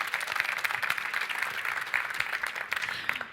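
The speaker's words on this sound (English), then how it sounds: "so you can applaud them" Audience applause at a 2017 Citroën press conference at the Geneva Motor Show: dense, even clapping from a crowd that holds steady for the whole few seconds, with no talking over it.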